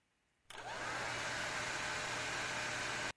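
Hair dryer switched on in an animated cartoon, a steady loud whooshing blast of air with a low motor hum that starts abruptly and runs unbroken to the end.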